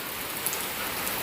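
Rain falls steadily outdoors, an even, continuous wash of drops striking surfaces, close and unbroken.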